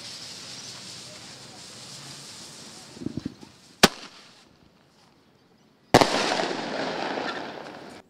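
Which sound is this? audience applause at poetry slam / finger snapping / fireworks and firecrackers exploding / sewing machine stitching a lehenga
fireworks and firecrackers exploding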